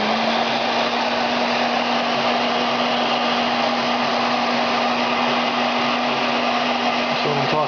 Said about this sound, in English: Here's my heat gun.